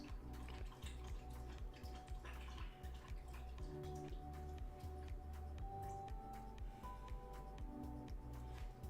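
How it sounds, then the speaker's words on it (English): A dog laps water from a bowl indoors, a quick rhythmic series of wet licks and splashes that continues steadily close by, with no talking. "my dog's drinking water in case you can hear all that type of stuff"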